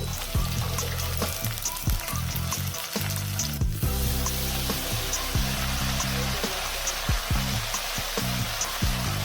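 Fenugreek leaves hit a hot oil tempering and sizzle steadily at close range, with dense frying crackle and scattered stirring scrapes throughout and no talk.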